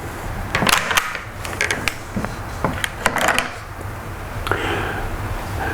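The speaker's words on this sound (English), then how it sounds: "So here's my rifle, and I'm going to remove the bolt." Bolt being removed from a Steyr M95 rifle: a series of sharp metallic clicks, clacks and sliding scrapes, close up and fairly quiet, with irregular spacing.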